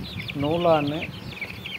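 Kilimookku Visiri Vaal chicks, about two months old, give a single close, loud rising-and-falling call lasting under a second, over soft background chatter and faint bird calls.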